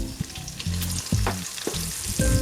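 Whole spices such as cinnamon, cloves, marathi moggu, stone flower, cardamom, bay leaf and kasuri methi fry in hot oil for chicken biryani, a close crackling sizzle with clanking stirs and scrapes of a spoon against the pan.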